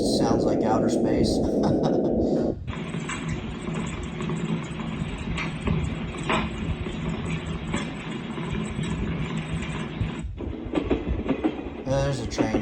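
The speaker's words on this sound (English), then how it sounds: "There's a train right there." A recorded train plays from a galaxy projector nightlight, steady rumbling clatter of rail cars running for several seconds through a small speaker, with a voice talking over the start of the clip.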